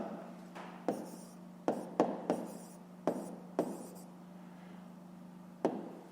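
Pen scratching and tapping on paper while working a school maths problem, a series of short sharp strokes at an irregular pace, close and fairly quiet over a faint steady hum.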